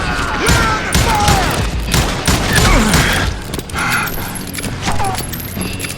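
Several guns fire in rapid, overlapping bursts at close range, a chaotic fusillade of sharp cracks lasting the whole stretch with no pauses.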